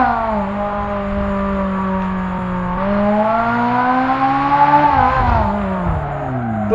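A Ferrari 458 Italia in BeamNG Drive accelerates along a winding road, its loud, steady engine note climbing and falling in pitch through continuous revving, with no talk over it.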